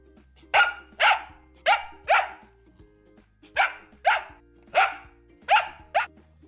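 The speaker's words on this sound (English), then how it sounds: "D for dog" A dog barks repeatedly, about nine sharp barks in irregular pairs, loud and close, with a low steady hum underneath.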